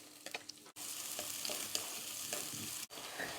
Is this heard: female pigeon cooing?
no